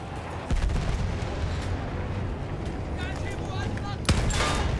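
An artillery gun in the World War I shooter Battlefield 1 fires with heavy booms, one early and a sharper blast near the end, set against rumbling battlefield noise.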